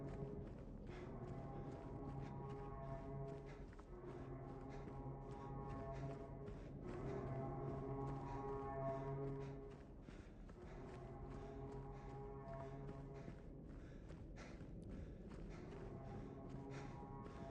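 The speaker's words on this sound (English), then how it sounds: "That foghorn, a miserable, lonely sound." A foghorn in the video game Silent Hill 2 Remake sounds as a low, sustained, mournful drone that holds steady for several seconds, then fades. Soft footstep-like thuds continue throughout.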